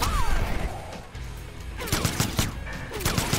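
Rapid bursts of Mortal Kombat X gunfire crackle in quick clusters over a busy tournament background, with sharp repeated shots toward the end.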